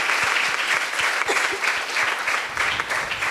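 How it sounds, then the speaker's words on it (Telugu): Hall audience applauding a Catholic priest at his priestly ordination celebration in the Diocese of Eluru, a dense, steady burst of many hands clapping together at close range. "వారిని అభినందిస్తూ గురు పట్టాభిషేక శుభములను చప్పట్లతో గట్టి తెలియజేస్తాం."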